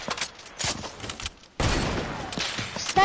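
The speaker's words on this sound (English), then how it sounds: "Sniper battle." Sniper rifle shots in a video game sniper battle, a few sharp cracks scattered over busy game noise, with a louder burst of sustained gunfire-like sound filling the latter half.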